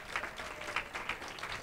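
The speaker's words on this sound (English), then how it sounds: "let's give all the candidates a round of applause" Applause at an NAACP candidates forum fills the hall, a moderate mass of clapping hands with a few sharper bursts standing out, heard from some distance.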